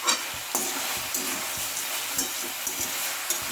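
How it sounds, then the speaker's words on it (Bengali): Mattar greens with bori are stirred and fried in a pan over a raised gas flame: repeated scraping stirs and clatter ride over a steady sizzle, close and fairly loud, with no talking. "দিয়ে আবারও ভালো করে আমি এটাকে নেড়ে মিশিয়ে দেবো। গ্যাসটা বাড়িয়েই মেশাবো।"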